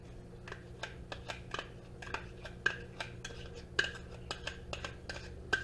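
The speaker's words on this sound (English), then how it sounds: "So I'm going to stir this up and get it put on the top here" A spoon stirs meatloaf topping in a bowl, tapping and scraping in quick, irregular clinks close by and fairly quiet, with no talking.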